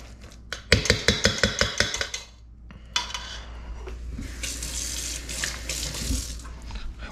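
A kitchen tap runs into a sink to wet hands while seafood cakes are being made. A rapid clatter of dishes comes first, then a short pause, then a steady rush of running water.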